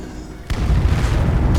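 Heavy explosions erupt in a Skyrim battle, a loud broadband boom starting abruptly about a third of the way in and rumbling on continuously to the end, with a faint voice underneath.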